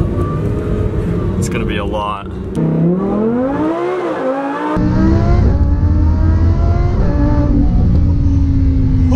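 An 840-horsepower car accelerates hard with rising engine pitch and a brief wheel-spin squeal, loud and close, while people talk and exclaim over it.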